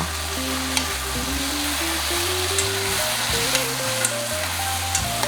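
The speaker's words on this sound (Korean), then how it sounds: "청경채와 버섯을 넣은 후에는 약 1분 정도 내외로 빠르게 볶아줍니다." Bok choy and mushrooms stir-fry in a hot pan with a steady, loud sizzle and crackle, while background music plays underneath.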